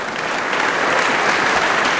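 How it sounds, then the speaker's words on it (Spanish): An audience at a television presentation gala applauds Manolo Centeno, a brief, loud, dense wash of clapping from a full room, steady with no voices over it. "Un aplauso para Manolo Centeno."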